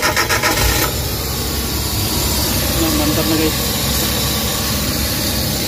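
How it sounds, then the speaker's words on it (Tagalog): A Suzuki DA64 engine with a vibration fault, running with the AC on, idles in a steady, loud rumble after a brief uneven start, while someone speaks briefly over it. "So pakinggan natin guys yung makina"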